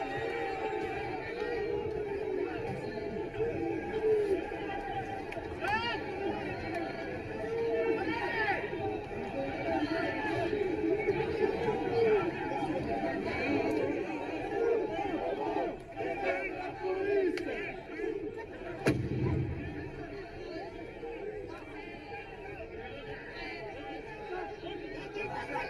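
A large outdoor crowd chattering and shouting as it surges toward police, a dense continuous babble of many voices with occasional louder cries and a brief thud-like burst partway through.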